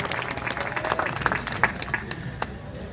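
Audience applause at a devotional Hindi gathering honouring Lord Ram: a dense, steady wash of many hands clapping at moderate loudness, with a few sharper claps standing out.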